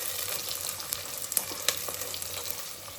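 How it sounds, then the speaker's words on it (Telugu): Onions and green chillies frying in a pan for chicken haleem, a soft, fairly quiet sizzle with scattered small pops and light stirring clicks, no voices. "4-5 పచ్చిమిర్చి బాగా ఫ్రై చేసుకున్నాను"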